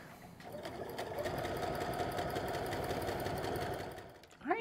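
A sewing machine stitches a French seam on an A-line skirt, a fast, close, steady mechanical chatter that builds up, holds for a few seconds and then slows to a stop, with no talking.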